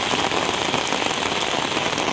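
Heavy rain driven by strong wind pours down in Tamil Nadu as a loud, steady, dense hiss of drops pounding surfaces, with no let-up.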